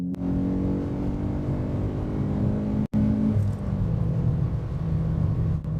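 A Citroën Saxo VTS accelerates hard on a 60 mph road to overtake two cars, its engine droning steadily and loudly from inside the cabin, with a brief dropout midway and the pitch settling as it pulls past.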